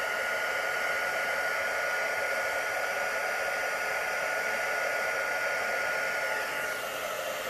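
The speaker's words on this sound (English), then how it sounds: "We'll blow a little bit across onto the sand." A hair dryer blows steadily across resin poured onto sand for beach-pour geode coasters, a continuous close, even rushing whoosh that holds for several seconds with no talking.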